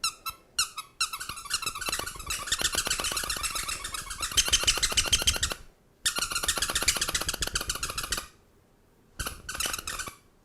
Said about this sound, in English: That was so much fun squeaking my cheeks.